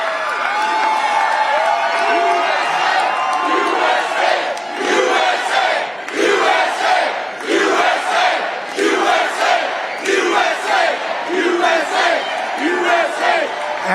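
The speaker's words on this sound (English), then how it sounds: "Wow, what a nice crowd this is." A large crowd at a political rally in Green Bay, Wisconsin cheers and chants loudly, rising in rhythmic waves of shouted unison voices that fill the arena without a break.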